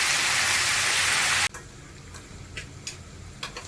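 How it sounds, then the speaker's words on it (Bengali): Potatoes frying in a hot pan during a home kitchen cook: a loud, dense sizzling hiss for about a second and a half, then cut to a quieter background with scattered light ticks and pops. "এই যে আলুটা ভাজা চাপিয়ে দিয়েছি, আলুটা ভেজে নিই।"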